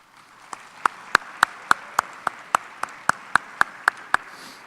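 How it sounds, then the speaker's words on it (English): At a colloquium, a single pair of hands claps in a slow, even rhythm, giving about fourteen sharp, distinct claps over roughly four seconds against a quiet room, rather than the full wash of a crowd. "I join the crowd in applauding you for your efforts and for your accomplishments"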